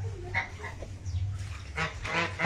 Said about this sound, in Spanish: Aquí también podemos observar muchos más gansos que en este momento pues se están refrescando.